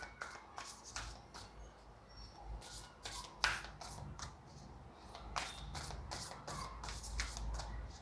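Tarot cards shuffled by hand in a quiet room, a steady run of soft riffling and slapping bursts, close and fairly faint, with no talking.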